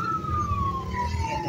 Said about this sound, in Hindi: आई थिंक एम्बुलेंस है